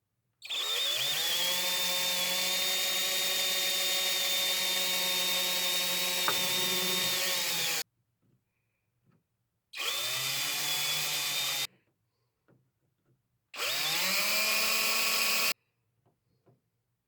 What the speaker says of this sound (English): now we're just going to take a drill after this fucking piece of garbage focuses